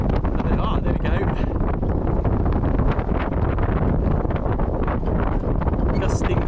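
Gusty wind while sailing at force 3 buffets the microphone aboard a small sailboat, a loud, rough, uneven roar with surging gusts throughout and no clear talk.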